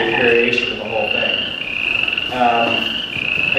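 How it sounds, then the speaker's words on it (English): A frog croaking sound effect used within a generated ambient soundscape: two bursts of rhythmic, rasping croaks over a steady high insect-like whine, fairly close and clear, with no talking. "I still use this frog sound effect as my SMS notification to this day."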